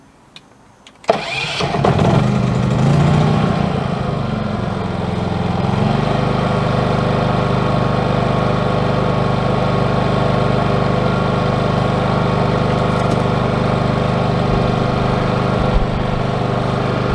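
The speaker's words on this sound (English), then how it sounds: "I'm going to start my generator up." A generator at a school bus conversion cranks and catches after a second of quiet, then settles into a loud, steady mid-pitched engine drone that runs on unbroken for the rest of the clip.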